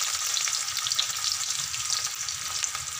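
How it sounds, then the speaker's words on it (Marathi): Onion frying in hot oil, a dense, steady crackling sizzle close up that holds evenly throughout, with no talking over it. "तांबूस कलर येईपर्यंत कांदा खूप छान भाजून घ्यायचा"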